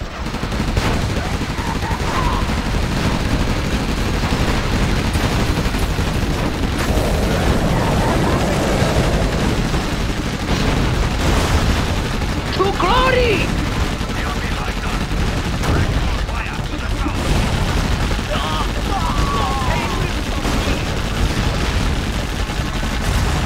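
Dense, continuous gunfire and explosions in Command & Conquer: Generals during a GLA mission assault on a guarded pass, loud and sustained with bursts of machine-gun fire and booms layered together.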